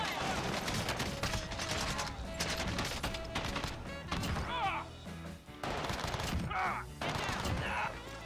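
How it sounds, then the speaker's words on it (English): Rapid gunfire crackles continuously in Call of Duty on Rebirth Island, a dense chaotic mix of overlapping shots with brief gaps and scattered game sounds. "Taking fire!"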